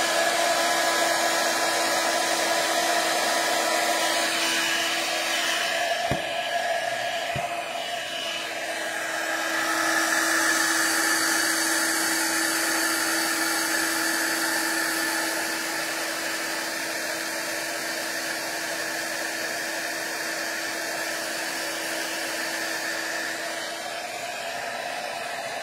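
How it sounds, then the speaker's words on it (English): A heat gun blows hot air with a steady, loud broadband whoosh and a constant motor whine, running continuously throughout with a brief dip and change in tone partway through; no talking. "I'm going to pick this up before I start using the heat gun."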